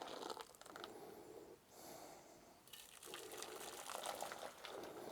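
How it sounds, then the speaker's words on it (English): Liquid splashes and sloshes in a pan as butter melts for butterbeer, a continuous watery churning in two bursts separated by a brief lull, close and fairly quiet. "I'm getting better, but we do have some splashing."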